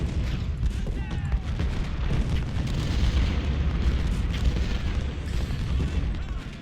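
Massed artillery counter-battery fire in the Civil War strategy game Ultimate General Civil War, at the Siege of Suffolk: a dense, unbroken rumble of cannon booms and crackling musketry holds steady and loud throughout.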